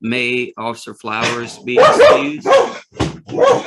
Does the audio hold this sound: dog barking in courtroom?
yes